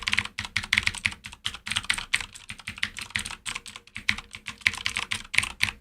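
Rapid, continuous typing on a UK-layout computer keyboard without clicky switches, dense bursts of sharp key clacks with brief pauses, close and crisp.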